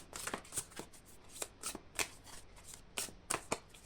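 Tarot cards are shuffled up close for a card reading, a soft run of riffling flicks and taps in an irregular rhythm.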